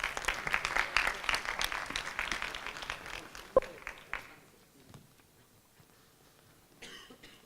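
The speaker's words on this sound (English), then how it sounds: "ladies and gentlemen, a round of applause, please" Audience applause at an international business competition event, a dense burst of clapping for about four seconds that dies away, leaving a quiet room with a few faint knocks.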